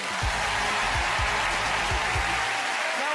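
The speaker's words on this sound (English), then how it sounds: "Ladies and gentlemen, give them a massive round of applause." Studio audience applauding the Conn family on the All Star Family Fortunes game show: a steady, dense wash of clapping that stays loud and even for about three seconds, with a few low thumps underneath.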